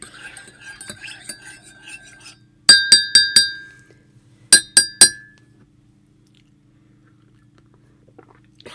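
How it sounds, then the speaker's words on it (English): A metal spoon clinks against the sides of a coffee mug during stirring, first in a quick run of four bright chimes, then three more after a pause, heard clearly in a quiet room. "Let me give it a stir first."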